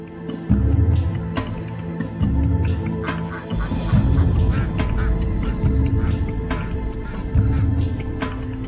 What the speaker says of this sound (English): A full-grown duck.